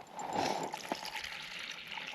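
Water poured out for a dog named Tank on an outdoor trail outing, a short close trickle and splash that is steady and moderately loud, with no talking.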